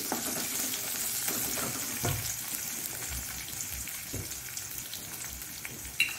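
Finely chopped onion frying in a pan for a Mangalore-style drumstick leaves palya, giving a steady close sizzle with occasional stirring scrapes and small pops throughout.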